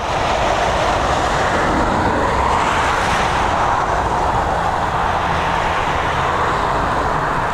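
An Aer Lingus ATR 72-600 turboprop takes off from Dublin Airport runway 10R, a loud, broad roar of engines sustained throughout, swelling slightly midway as it climbs away, with no talk.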